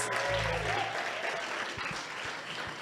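Audience applause for sponsor Gauteng Tourism at a jazz festival stage for young people, a steady dense wash of clapping that holds throughout and eases slightly toward the end.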